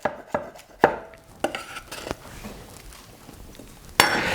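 Fresh mint is chopped with a knife on a board for a raw salad: a handful of crisp, irregular knocks, then a quieter stretch and a louder burst of cutting at the end.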